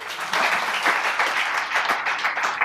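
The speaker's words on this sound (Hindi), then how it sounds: "यहाँ ताली बजाना" An audience at a Hindi poetry recital claps after a couplet, a full, even wash of many hands that swells in just after the start and continues steadily at moderate loudness, with no one speaking.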